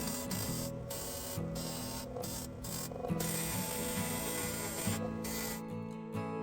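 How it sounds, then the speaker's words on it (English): Chisel cutting wood on a lathe while turning a candle holder: a steady rasping, scraping whir over the spinning lathe hum, with brief pauses and repeated bites of the tool, close and continuous. "Decided to try this chisel, and something tells me this is not what this tool was meant for."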